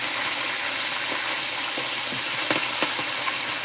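Beef browning in a hot pan gives a steady, close sizzle throughout, with a few soft clicks and scrapes as a utensil moves and chops the meat.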